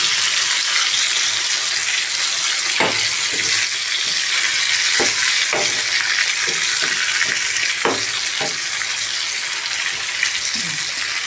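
An eggplant mixture fries in a pan with a constant loud sizzle. A spoon or spatula stirs it now and then, making scattered clacks, and no one talks.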